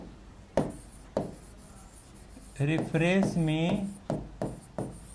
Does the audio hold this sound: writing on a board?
yes